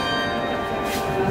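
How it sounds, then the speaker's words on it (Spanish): Rich, sustained ringing of the large bells of Barcelona Cathedral, overlapping tones blending into a continuous resonant peal. "Las campanas venían de la Catedral de Barcelona"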